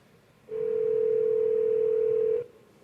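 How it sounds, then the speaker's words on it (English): A telephone rings upstairs, one steady electronic tone that holds for about two seconds and then stops. It is moderately loud over a quiet room, with no talking. "It's the phone upstairs."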